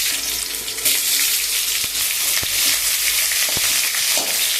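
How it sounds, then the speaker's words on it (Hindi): Mustard seeds, sweet curry leaves, chilli and onion sizzle and crackle in hot oil for a homemade Chhattisgarhi curry, with loud, steady frying and a few sharp pops throughout, no talking. "सरसों, मीठा कढ़ी पत्ता और मिर्ची और प्याज का तड़का लगाएंगे"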